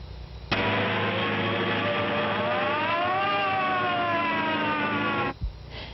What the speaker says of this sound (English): Oh, what a silly siren.